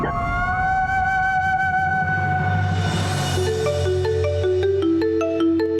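Phone ringtone in a Hindi TV serial, an electronic melodic ring of tonal beeps rising and stepping in pitch, loud and alone over a musical backdrop.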